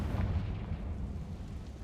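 Confringo fire-blast spell in Hogwarts Legacy, a deep, rumbling explosion that booms at the start and then fades into a low, decaying roar.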